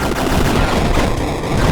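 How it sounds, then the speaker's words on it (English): Dense rapid video-game gunfire from a shotgun in Bleed pours out in a loud continuous barrage of overlapping blasts and booms, with no gaps, during a boss fight. "Shotgun is really good against bosses."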